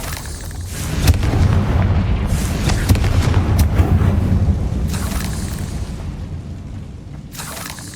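A Confringo spell blast in the Hogwarts Legacy video game, a loud sustained booming explosion rumbling for several seconds with crackling debris, fading toward the end with a sharp burst at the close.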